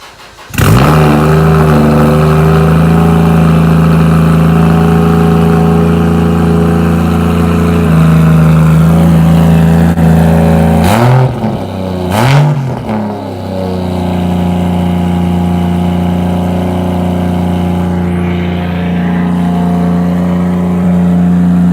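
A Toyota 1JZ engine with a newly rebuilt full exhaust cold starts with a quick crank and catch, then settles into a loud, steady, high cold idle, broken by a couple of sharp throttle blips before returning to a smooth drone.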